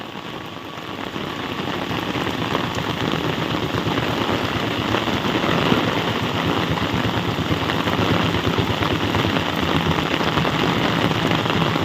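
Steady rain pours down outside a house, a dense, even patter on surfaces that stays loud and constant throughout, with no voices.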